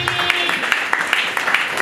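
A crowd at a ward event in Itigi applauds, a dense, steady wash of many hands clapping close by that fills the whole short stretch.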